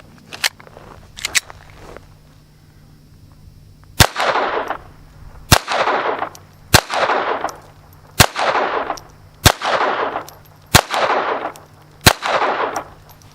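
A Walther PPQ pistol with a new barrel fires about seven loud, sharp shots spaced roughly a second or more apart, each followed by a short echoing decay, with a few quieter clicks and pops before them.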